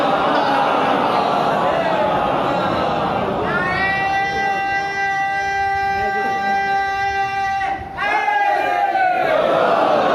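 A congregation at a chehlum majlis in an imambargah chants slogans in loud unison, sustained cries rising over dense crowd noise, breaking briefly and then surging again.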